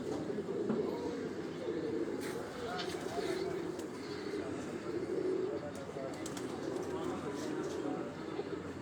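Pigeons settle on a rooftop in Rawalpindi in the evening, giving a faint, continuous murmur of cooing and fluttering against a low outdoor hum, with occasional soft wing sounds and a voice faintly in the background.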